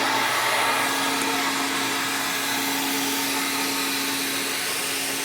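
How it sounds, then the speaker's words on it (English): A Mattress Claw extraction tool draws moisture out of a mattress with a loud, steady suction roar and an even mechanical hum, unbroken for the whole stretch. "I'm going to use the Mattress Claw to pull that out"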